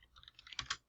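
Fast, uneven clicking of typing on a computer keyboard, a short burst of several close keystrokes that gets louder toward the end, with no voices.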